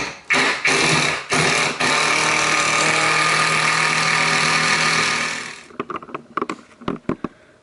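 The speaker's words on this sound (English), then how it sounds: "get that first screw in" A power driver sinks the first screw while hanging storage shelves from a ceiling, a loud continuous whine after a few short bursts, then stopping abruptly and followed by a string of sharp knocks and clicks.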